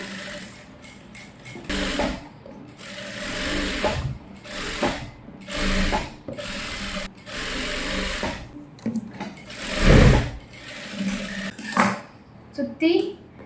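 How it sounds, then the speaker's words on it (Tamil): A sewing machine stitching around the lining of a child's gown, running in bursts of rapid mechanical whirring with short pauses between them and someone talking underneath. "இப்போ சுற்றி தையல் போட போகிறோம்"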